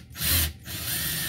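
Hand-cranked drill slowly boring through a small scrap piece of wood, a loud, close grinding and scraping that pauses briefly, then resumes steadily with no talking.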